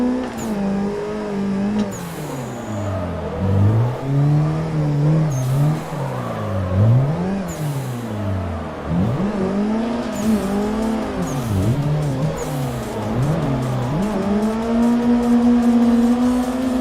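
A car drifts down the winding Irohazaka mountain course in a racing video game, its engine revving up and down in repeated surging sweeps as it slides through corners, loud and continuous with no talk.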